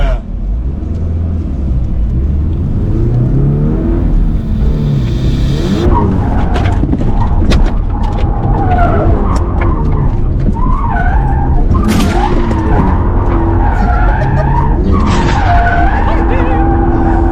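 A Toyota GR86 drifts with loud, continuous tire skidding and squeal over a revving engine, heard from inside the car, with occasional voices of passengers.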